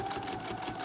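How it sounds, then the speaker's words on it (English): A sewing machine running steadily, its rapid mechanical stitching rattle continuous and close throughout the short burst. "you do have to take the time out to sew on your sewing machine"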